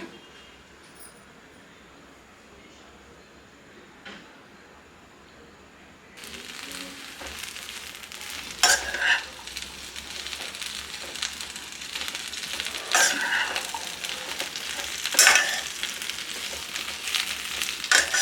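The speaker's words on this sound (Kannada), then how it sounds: "ಇದನ್ನು ಚೆನ್ನಾಗಿ ಎಣ್ಣೆನಲ್ಲೇ ಫ್ರೈ ಮಾಡ್ಕೋಬೇಕು ಲೈಟಾಗಿ" Okra (bhindi) frying lightly in a spoonful or two of oil in a pan on a medium flame starts as a faint hiss, then swells into a steady sizzle with sharp pops and crackles, no voices over it.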